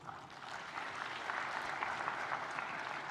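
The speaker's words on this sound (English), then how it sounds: "que je vous demande d'applaudir s'il vous plaît" An audience at an African trade forum applauds the secretariat team. The steady clapping of a large room builds slightly over a few seconds and carries on without any speech over it.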